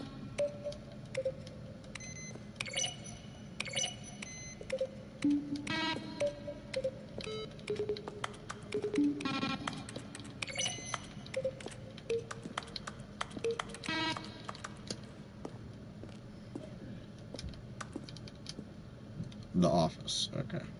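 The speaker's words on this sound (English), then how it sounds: "Each sound is a mix of a keyboard stroke and a synthesized tone." Button-press sounds from The Stanley Parable video game, each blending a keyboard keystroke with a synthesized tone, recur as scattered clicks and short beeps over a steady background with faint talk.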